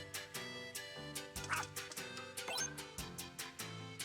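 Cartoonish dog barks from the video game Pac-Man World 2 Re-Pac, a steady run of short yips and woofs repeating roughly every half second over a harmonic game backdrop, loud and close.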